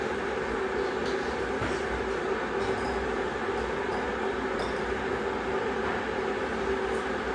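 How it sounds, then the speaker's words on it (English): Water heating in a pressure canner set up for raw-pack cubed beef, a steady broadband hiss and low rumble with a faint hum that holds constant throughout, close and moderately loud. "Sorry about the noise, that's my water heating up."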